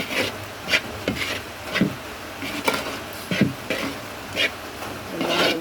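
A spoon stirs ground spices into a curry in a pot, making a steady run of rhythmic scraping strokes against the pot, close and moderately loud, with no talking.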